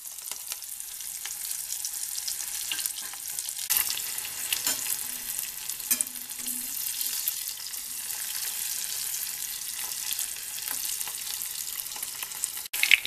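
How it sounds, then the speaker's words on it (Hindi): Sliced onions frying in oil for a raw banana curry, a continuous bright sizzle held close and even throughout, with a few faint stirring scrapes and no voices. "प्याज को डालेंगे।"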